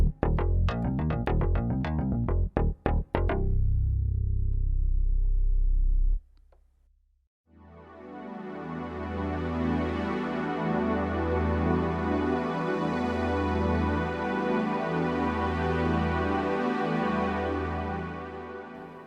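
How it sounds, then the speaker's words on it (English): Korg Opsix mkII FM synthesizer plays sounds heard alone: bright staccato plucked notes, a brief pause, then a sustained layered tone pulsing rhythmically over a deep bass line. "So as you can hear, you've got some really nice pads built into the Opsix"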